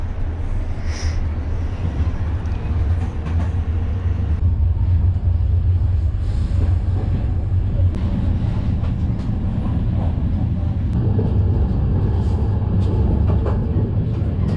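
A train in Transylvania, Romania rumbles steadily for a long stretch, with loud low rolling noise and occasional clicks and squeals from the wheels and cars.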